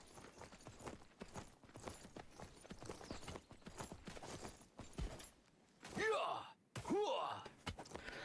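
Horse hooves clip-clop in the video game Myth of Empires, a steady trotting patter beneath ongoing game sounds and voices, with brief louder effects near the end.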